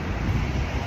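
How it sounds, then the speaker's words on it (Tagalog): Outdoor wind buffets the microphone in a continuous, loud low rumble for about a second, with no voices over it. "Pero mahangin."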